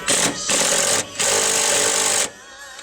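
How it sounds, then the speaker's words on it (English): A DeWalt 20-volt cordless impact driver hammers in three loud, close bursts with short pauses between them, the last burst the longest, during work on a car's hydroboost brake unit. "I can't talk up this D-wall 20 volt cordless impact enough."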